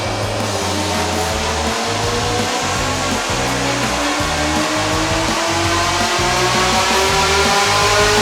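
A modified Camaro's engine roars steadily on a dyno, a loud, sustained drone whose pitch climbs gradually through the run with no pauses.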